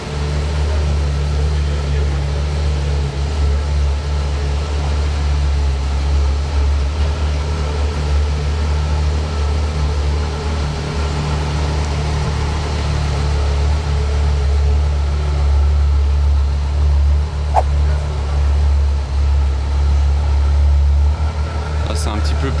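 A Porsche Mirage GT with a carbon wrap idles in a lit tunnel, a loud, steady low engine rumble that runs throughout under people talking.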